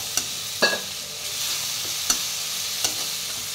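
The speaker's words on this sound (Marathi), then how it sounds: "तेलामध्ये आपण थोडी मिरची परतवून घेऊया" Green chili paste fries in a pan of oil with a soft, continuous sizzle, broken by a few sharp spoon clinks and scrapes against the pan at irregular intervals.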